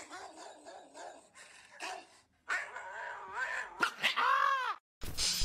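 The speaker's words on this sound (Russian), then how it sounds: "А потом они начали рычать, гавкать" Dogs let out a rapid string of close, loud barks, yips and whining yelps in uneven bursts with brief gaps between them.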